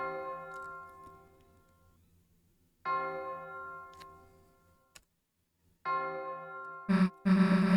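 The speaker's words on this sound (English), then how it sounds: "Church bell." Church bell in the video game Deltarune, struck three times a few seconds apart, each clear ring slowly fading, then followed by a couple of louder, harsher game noises at the end.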